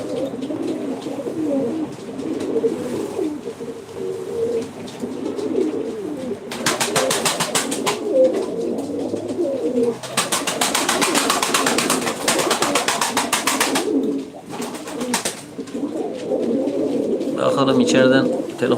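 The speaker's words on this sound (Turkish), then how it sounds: "Dostlar bunlar normalde benim damızlık kuşlarım bak." Breeding pigeons in a Turkish loft coo steadily at close range, with overlapping low throaty calls, wing flutters and brief bursts of broadband noise from the flock.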